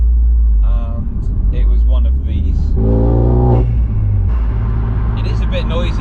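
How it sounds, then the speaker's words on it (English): Loud road noise and a droning stainless exhaust fill the stripped cabin of a Renault Megane RS Cup with no back seats, a constant low rumble with engine tones rising and falling under someone talking. "I'm sorry about the audio if you can barely hear me over the tyre noise and the exhaust"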